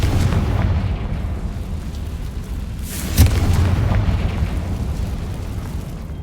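A fiery Confringo spell explodes in Hogwarts Legacy: one deep, loud boom bursts midway through a steady rumbling game ambience, then fades back into the background roar.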